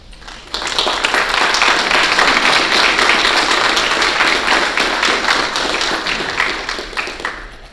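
A room full of people at a school board meeting applauds recognized students, with dense, steady clapping that starts abruptly and holds for several seconds before tapering off.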